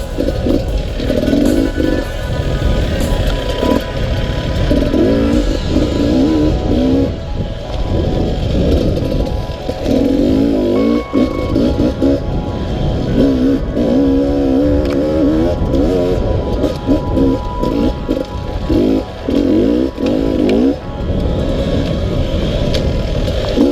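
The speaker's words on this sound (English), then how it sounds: "the lowest seat height of the Beta, along with that very predictable power delivery, make it a pleasure to ride in this terrain." Beta RR250 enduro motorcycle ridden over off-road terrain, its engine loud and close with constant rising and falling revs, throttle blips and rough mechanical rattle throughout.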